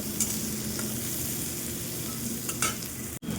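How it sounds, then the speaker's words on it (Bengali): Steady sizzling of frying onions in a hot wok, with a few stirring scrapes and no voices. "এই যে দেখো পেঁয়াজ ভাজা হয়ে গেছে"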